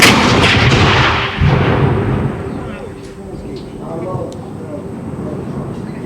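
Civil War reenactment cannon fire at a French Azilum event: one loud, booming artillery blast opens, then rolls off into a long echoing decay over outdoor ambience.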